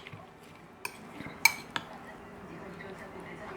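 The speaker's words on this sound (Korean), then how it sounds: "이렇게 섞어주세요" A spoon clinking against a bowl while finely chopped red chili and green onion are mixed for a side dish, a few sharp close clinks over a soft background.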